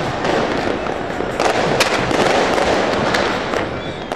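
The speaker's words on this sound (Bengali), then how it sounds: "একের পর এক আতশবাজি ফোটানোর মধ্য দিয়ে আলোকিত হয়ে ওঠে নতুন নববর্ষের রাত।" New Year fireworks exploding at midnight, a dense loud barrage of overlapping bangs and crackles with no pause, no voices.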